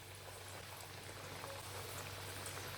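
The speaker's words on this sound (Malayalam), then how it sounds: "നമുക്കിത് എണ്ണയിൽ വറുത്തെടുക്കാം ചെമ്മീൻ അട" Prawn-stuffed chemmeen ada, a rice pastry, frying in hot oil on a stove gives a faint, steady bubbling crackle that stays even and unbroken.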